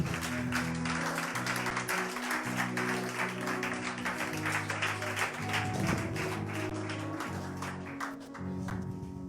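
A church congregation claps and acclaims the Lord during a worship service, with sustained applause over an organ or keyboard chord pad at moderate volume.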